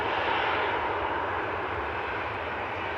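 Airliner engines roar steadily at Manchester Airport as a jet lines up on runway 23 left, a loud, continuous broadband rumble with no voices over it.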